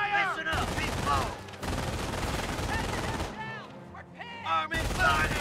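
Gunfire in the Company of Heroes American campaign: dense bursts of rifle and machine-gun fire crackle almost continuously, dropping out briefly, with in-game voices calling out over the battle.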